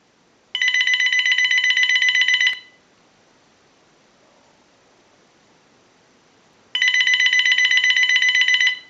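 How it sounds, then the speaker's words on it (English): Two bursts of electronic ring from a General Electric 27831 cordless telephone, each about two seconds long, separated by several seconds of near silence; loud, steady and close. "send a ring cycle like you were getting a call"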